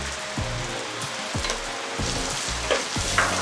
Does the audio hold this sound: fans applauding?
no